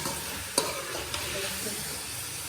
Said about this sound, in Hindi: बस अभी मैंने इसमें ना चिकन डाल दिया, फ्राई करके